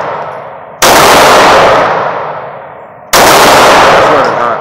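Two loud, sharp Glock pistol shots at an indoor shooting range, each with a long echoing decay, spaced a little over two seconds apart.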